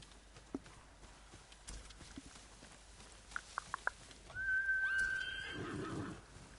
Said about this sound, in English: Get back on my horse.